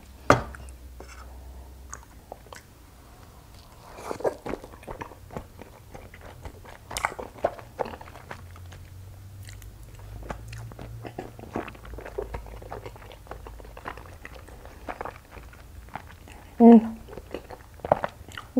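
Chewing and biting into Korean rice cakes with honey: soft, close, sticky mouth sounds and small crunches at an uneven pace, with a brief louder bite near the end.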